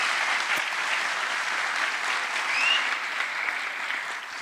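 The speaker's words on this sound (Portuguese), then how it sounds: "uma salva de palmas para a família" A lecture audience in Curitiba breaks into steady, sustained applause, a dense even wash of clapping from many hands with no pause, heard at a moderate distance.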